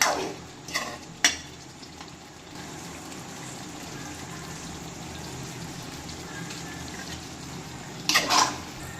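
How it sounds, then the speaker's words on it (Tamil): Pepper chicken cooking in a pan with salt being added and stirred, as soft scraping and frying texture runs steadily underneath, with a few sharper utensil clinks near the start and end. "இப்போ இது கூட நம்ம உப்பு ஆட் பண்ணி கிளறி விட்டுக்கலாம்."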